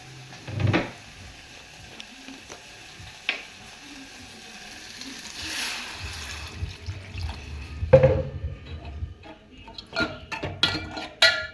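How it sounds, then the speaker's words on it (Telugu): Water splashes into a cooking pot of cucumber chicken curry in short bursts, one near the start and a longer, louder run of pouring and splashing toward the end, with quiet gaps between. "వాటర్ పోసుకుందామండి."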